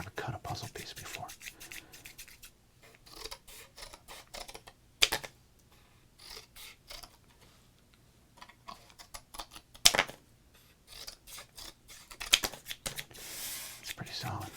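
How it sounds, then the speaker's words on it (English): Scissors cutting a solid cardboard puzzle piece from a sports card pack, heard as sparse, close snips and crisp scratches with quiet pauses between bursts. "I've never cut a puzzle piece before."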